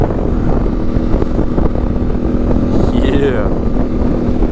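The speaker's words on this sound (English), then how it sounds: "I absolutely love the way these T7s sound." Steady low drone of a Yamaha Tenere 700 cross-plane twin engine while riding backcountry trails in Washington, running continuously and close, with a brief rising rev near the end and a rider talking over it.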